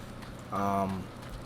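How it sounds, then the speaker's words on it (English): Rain falls in Eastern Thanalan in Final Fantasy XIV: a soft, even patter runs throughout while someone talks over it briefly. "Eastern Thanalan is pretty, gotta say. Everything's raining, though."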